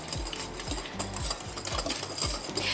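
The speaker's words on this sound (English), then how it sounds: "we're just gonna whisk this until it's combined" A whisk beating pumpkin muffin batter with pumpkin pie spice in a bowl, making quick, regular scraping taps against the sides. It sounds close and fairly loud, steady and rhythmic, with no talking.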